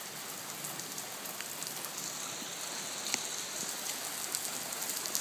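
Outdoor rain falls steadily at a home driveway, a dense even hiss with scattered sharper drops pattering on nearby surfaces, constant and moderately loud throughout with no talk over it.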